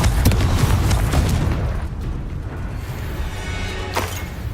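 A loud, low booming explosion from the Confringo spell in Hogwarts Legacy, a heavy rumbling blast at the start that fades into sustained low roar with a few sharp crackles.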